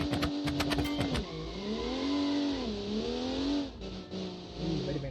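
A turbocharged 2.5-liter inline-six car accelerates hard, its engine note climbing through the revs, briefly easing off and rising again between gear changes, close and loud with no talk.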